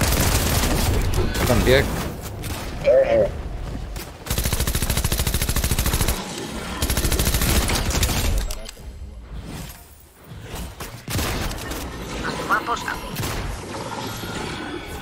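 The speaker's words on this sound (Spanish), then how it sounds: "Están disparando de otro lado y no sé de qué, de dónde." Rapid gunfire bursts crackle through a shooter video game match, with automatic weapons firing in repeated volleys and whooshes between them, while someone talks over the action.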